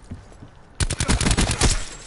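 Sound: gunfire in the Black Ops 4 video game

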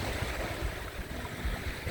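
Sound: small sea waves at Chao Lao beach, Thailand

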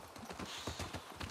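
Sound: horse hooves clip-clopping in the video game The Last of Us Part II

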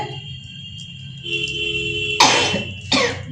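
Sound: cough

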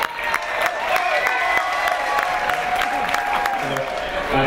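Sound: applause from the audience

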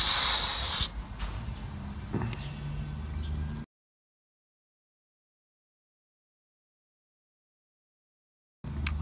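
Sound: air compressor inflating car tyre through inflator

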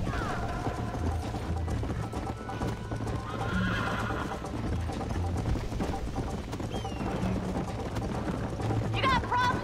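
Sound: horse galloping and neighing in the video game Red Dead Redemption

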